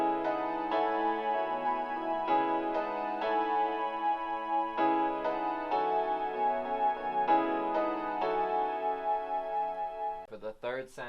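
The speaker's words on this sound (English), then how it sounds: "But so far with the piano and the pad on top of each other," Stock Reason piano layered with a soft synth pad plays sustained chords that change every second or so in a steady progression, clean and alone, ending with a brief swelling flourish.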